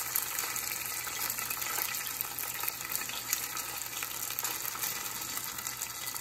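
Kung Pao chicken pieces spread in a single layer fry in a hot pan with a steady, dense sizzle that holds evenly from start to finish, with no talking.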